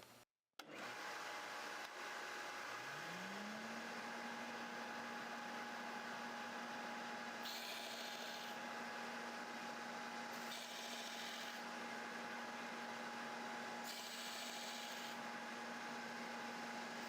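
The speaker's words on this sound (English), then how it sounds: "so we're ready to grind" Grinding machine sharpening a Stihl Kombi hedge trimmer blade: a steady motor whine spins up and holds at a constant hum, with three short bursts of brighter grinding noise laid over it, nothing spoken.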